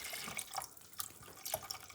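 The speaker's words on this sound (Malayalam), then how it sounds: "2 കപ്പ് ബ്ലൂബെറിക്ക് നമ്മൾ 2 കപ്പ് വെള്ളം ചേർത്ത് കൊടുക്കുന്നു." Water trickles and splashes in short uneven bursts as it pours onto frozen blueberries in a cooking pot, faint and close.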